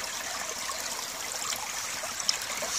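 A small stream in Ireland, low during a dry spell, gives a steady close rush and trickle of water that does not change over the whole stretch, with no voices.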